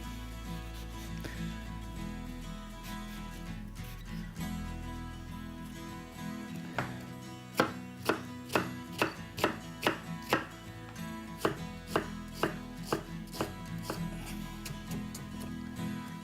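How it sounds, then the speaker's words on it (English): Knife chopping and dicing onion on a cutting board, a run of sharp, evenly spaced chops in the middle stretch, close and fairly loud against quiet kitchen background. "So let's get some diced onion going here."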